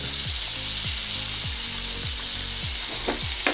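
Steak sears in a hot pan with a loud, steady sizzle, broken by a few regular low thumps and a couple of brief sharp crackles near the end, with no one speaking.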